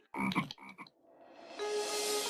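A frog croaks in a few quick, throaty bursts close up, then a steady hiss with a thin tone rises and holds until the end.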